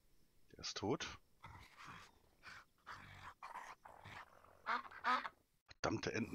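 Ducks in the zombie video game Night of the Dead give a series of short, raspy quacks at close range, irregular and clustered, interleaved with someone talking.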